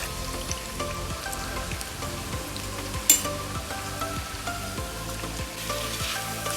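Jackfruit chips frying in hot oil, a steady close sizzle with soft crackling and occasional stirring clinks, one sharp clatter midway, no talking.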